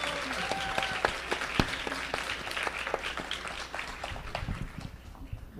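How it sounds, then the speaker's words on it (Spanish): Audience applause for Carlos at a university tribute, scattered claps mixed with crowd noise and faint voices, thinning out toward the end. "Y yo creo que Carlos se merece un aplauso por eso"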